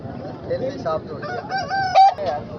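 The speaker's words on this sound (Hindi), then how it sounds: "मुर्गा देख लें माशाल्लाह से" An Aseel rooster crows amid a noisy backdrop of other fowl clucking and honking at a poultry market in Tando Adam, with a short, loud harmonic call standing out near the end.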